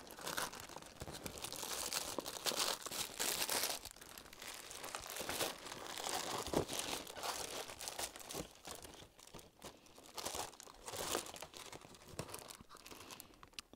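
Paper crinkles and rustles while a paper pattern is cut out for a cross-stitch project, a quiet, continuous crackling close at hand with no voices.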